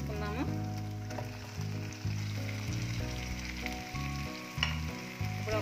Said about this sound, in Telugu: ఫ్రై అయిపోయిందండి, ఇప్పుడు చికెన్ వేసేసుకుందాము.